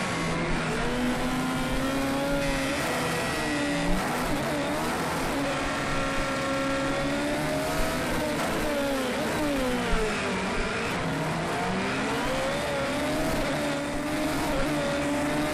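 A race car engine revs and accelerates hard off the start line in Project Cars 2 at Monaco, a loud, continuous roar with rising and falling pitch as gears shift, with a faint hint of tire squeal and no voices.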